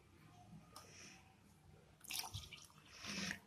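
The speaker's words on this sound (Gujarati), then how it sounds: "એમાં આપણે થોડું પાણી ઉમેરીશું" Quiet splashing and trickling of water poured into a bowl of plain yogurt, in two short bursts with soft drips between.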